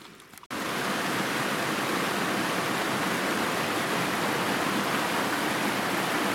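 Creek water rushing steadily along the North Fork Trail in the Cranberry Wilderness, a dense, loud, continuous flow close by after a brief quieter start.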